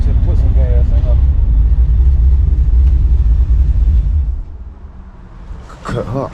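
A Chevrolet C10 pickup idles with a loud, steady low rumble that cuts off abruptly partway through, leaving quieter background with a brief sound near the end.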